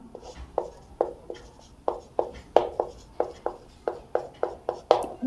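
Pen writing out a math solution on paper, a series of short scratchy strokes in an uneven rhythm, about a dozen distinct taps and scrapes heard close and alone without talk.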